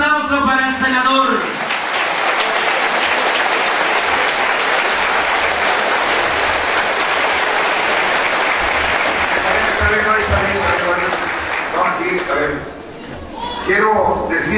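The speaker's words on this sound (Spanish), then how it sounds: "Un aplauso para el senador" Crowd applause for a senator at a 2014 event in Álamo, thick clapping that runs for about ten seconds. A speaker's voice sits over it at the start, and the speaker talks again as it fades.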